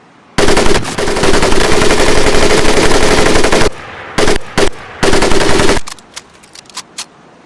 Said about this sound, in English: The other will fire the weapon.